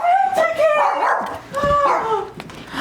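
A puppy at Christmas whimpers and yips close by in high, wavering cries with short breaks between them, while people talk softly nearby.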